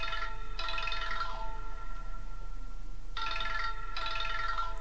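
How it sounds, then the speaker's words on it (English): An Android phone ringtone chimes in two repeated bursts, separated by a pause of quiet room hum; bright, electronic, and fairly close. "there's my phone ringing."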